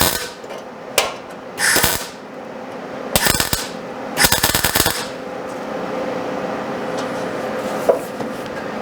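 Welding machine tacking metal on a Ford F100 truck bed, with several short bursts of harsh crackling buzz separated by pauses, close and fairly loud against a low workshop hum.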